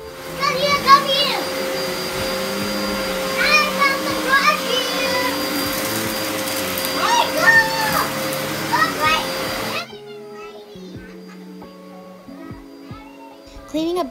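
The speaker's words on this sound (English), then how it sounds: "Cleaning up the house with this vacuum cleaner is easy" A vacuum cleaner drones steadily while children's voices chatter and call out over it; the motor cuts off abruptly partway through, leaving quieter sounds.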